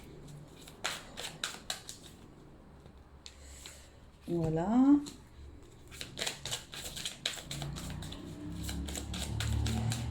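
Oracle cards being shuffled and drawn from a deck at home: bursts of quick, dry card flicks and riffles close by, with a short spoken word partway through and light rustling after.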